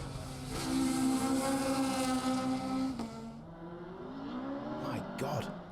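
A rally car at Donington Park screams at high revs, holding a loud, harmonic-rich engine note before dropping off and rising again in a shifting snarl, with commentary voices over it.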